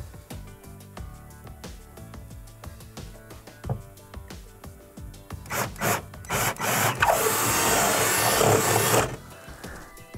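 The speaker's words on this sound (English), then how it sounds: "So I reamed that out a little bit more on both sides." A drill bit reams out a freshly drilled hole in a wall for mounting a built-in microwave, first light scraping and tapping, then a loud sustained grinding whir near the end, close up.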